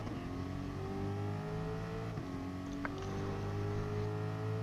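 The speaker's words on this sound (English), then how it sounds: "Let's listen to this 350 down Conrod." A V8 race car engine in a sim racing game drones steadily at high revs down Conrod Straight, with a brief drop in pitch as it shifts gear, then climbs again, loud and continuous.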